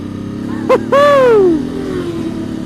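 Italian superbikes scream through a race track pit lane: a brief blip, then a loud close pass whose engine pitch drops sharply as it speeds away, leaving a low background hum.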